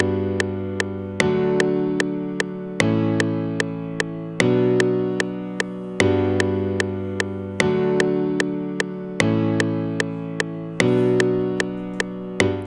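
Synthesizer chords change in a repeating cycle of a simple progression, each marked by a sharp click, with a sustained, buzzy tone and no voices.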